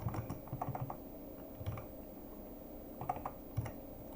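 Typing on a computer keyboard while entering code gives soft, close key clicks in short irregular bursts with pauses between them, quiet overall and with no talking.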